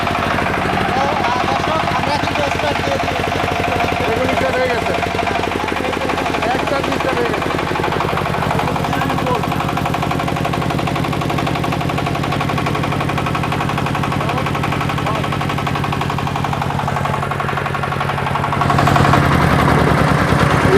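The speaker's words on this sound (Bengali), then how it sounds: "এই যে এখন স্টার্ট দিচ্ছি দাও স্টার্ট দাও এটা এখানে স্টার্ট হয়ে যাবে" A 20,000-watt self-start industrial diesel generator drones loud and steady from start to finish, with voices talking over it and a heavier surge in the final seconds.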